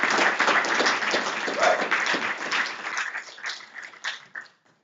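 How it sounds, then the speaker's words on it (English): An audience applauds after a project presentation day, dense clapping that is loud at first and then thins and fades out to silence. "let's give them another round of applause"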